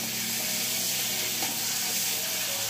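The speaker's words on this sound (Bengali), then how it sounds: "আজকে আর রোদ উঠবে না, সারাদিন বৃষ্টি হয়েই যাচ্ছে।" Steady rain falls outside a house after a night of downpour, a dense, even hiss of drops with a faint low hum beneath it.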